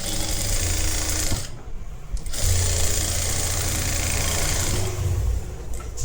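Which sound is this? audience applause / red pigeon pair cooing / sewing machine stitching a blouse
sewing machine stitching a blouse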